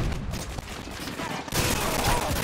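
Burst gunfire in Call of Duty Modern Warfare 2 forms a dense, loud, continuous barrage of rapid game shots, intensifying midway.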